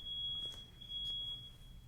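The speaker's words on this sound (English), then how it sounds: "I thought that was a smoke alarm." A steady high-pitched electronic tone, like a smoke alarm, rings continuously over a low background rumble.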